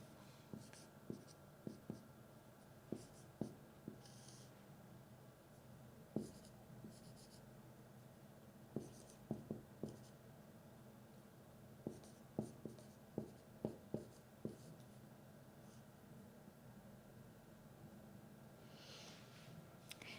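Pen or marker writing a formula by hand on a board or sheet, a series of short scratchy strokes in irregular bursts with pauses between, close and fairly quiet with no talking.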